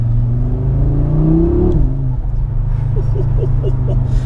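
An Audi RS3 accelerates on the road, its engine rising in a steady droning pitch with a shift partway through, close and continuous under cabin rumble.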